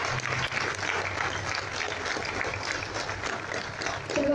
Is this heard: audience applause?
yes